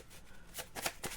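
Tarot cards being shuffled in a short run of crisp riffling bursts, close and moderately quiet, with no voice over them.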